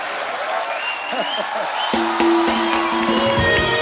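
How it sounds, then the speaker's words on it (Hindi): A studio audience at a comedy show applauds steadily, a dense clatter of clapping with laughter and voices mixed in that swells slightly toward the end. "कुछ भी नहीं कहना फिर भी ताली और हंसी"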